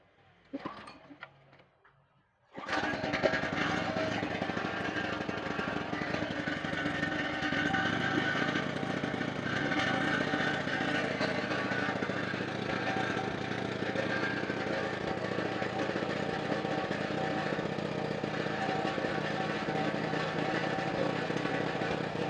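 A Sumura ET2500C petrol generator with a faulty 220V output roars to life after a short fumbling start, then runs loud and steady, close by, with no talk over it.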